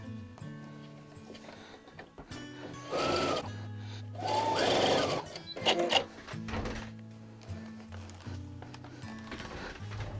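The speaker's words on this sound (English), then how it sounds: "then take off sewing from one end to the other" A domestic sewing machine stitching a quilting seam across fat-quarter fabric, a steady mechanical whir with needle chatter that revs up in bursts, loudest in the middle of the run, close and alone.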